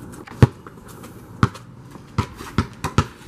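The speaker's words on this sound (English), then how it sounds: "I want to do some quick dribbles." A basketball dribbled indoors in short, quick bounces, five or six sharp thuds at an uneven pace, close and fairly loud against a quiet background.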